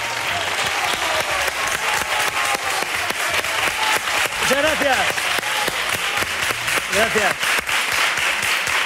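Steady applause from a studio audience on a Spanish television talk show, with sustained dense clapping throughout and a voice briefly speaking over it near the end.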